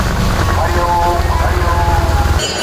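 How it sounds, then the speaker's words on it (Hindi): Heavy rain drums on the canopy of a rickshaw, a loud steady roar heard from inside, with devotional music playing faintly overhead and a low engine-like rumble throughout. "बाहर बहुत ज़ोर बारिश हो रही है"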